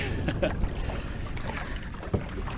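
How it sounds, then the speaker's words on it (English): Solo canoe paddling on a lake, with soft water sloshing and occasional paddle knocks over steady wind noise, close to the microphone, with no talk. "paddling this canoe solo feels a lot slower"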